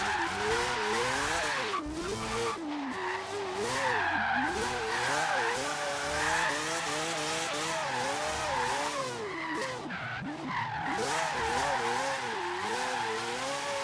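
A car drifts in the video game Forza Horizon 3 with sustained tire squeal, while the engine revs rise and fall in wavering pitch throughout. The sound is loud and continuous, with no talking.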